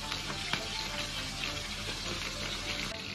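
Fish dusted in flour frying in hot oil for a braised fish dish, a steady close, dense crackling sizzle with a few sharper pops, loud throughout with no talking.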